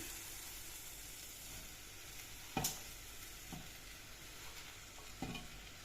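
Chopped taro stems fry in hot coconut oil in a pan: a steady, close sizzle and hiss, with a few sharper scrapes and knocks as the pieces are stirred, and no talking.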